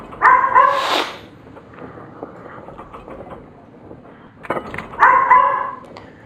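Dog barks in the dark-fantasy video game Dread Delusion, two short bursts of several yapping barks about four seconds apart, fairly close, over a quiet low background hum, with no talking.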